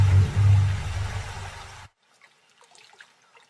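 Rushing water sweeps soil out from under a lion cub clinging to twigs and vines, a loud churning wash that cuts off abruptly partway through, leaving near silence.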